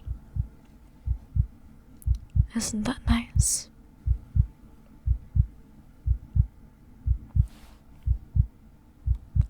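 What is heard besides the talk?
heartbeat heard with head resting on chest, ASMR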